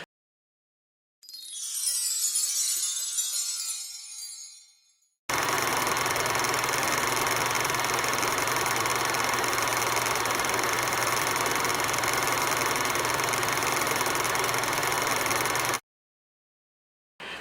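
A sewing machine stitches a handle seam on a fabric tote bag, whirring in one steady, continuous run of about ten seconds before stopping abruptly, preceded by a brief rustle of handling.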